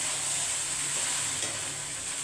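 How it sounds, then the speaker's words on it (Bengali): Rice sizzling as it fries in ghee and white oil while cooking pulao with Gobindobhog rice, a steady bright hiss throughout, close and continuous with no talk. "ঘি আর তেলে একটু ভেজে দিয়ে"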